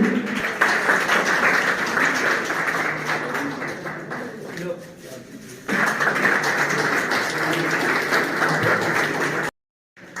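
Audience applause at a felicitation ceremony in a hall, steady dense clapping running for several seconds, dipping briefly midway and swelling again before cutting off abruptly near the end.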